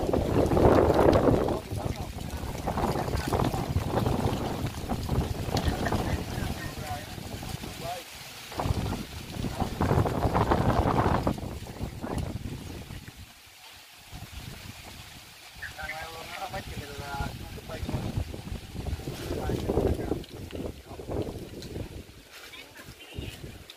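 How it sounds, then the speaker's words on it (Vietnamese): Strong gusts buffet the microphone high up in an 80-year-old bodhi tree at a Vietnamese temple, with rumbling bursts that rise and fall while someone talks. "Quá gió rồi quý vị ơi."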